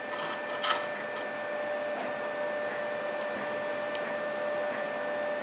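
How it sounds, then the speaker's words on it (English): A 3D printer hums steadily in the background with faint whirring tones, plus a soft click or tap now and then. It runs alone the whole time at a low level, with no talking. "yes, the 3D printer is running in the background"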